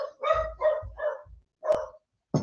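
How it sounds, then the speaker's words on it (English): A pet dog barks indoors in a short burst of about five sharp, close barks with brief gaps between them, ending with a quick yip. "the dog's barking as usual"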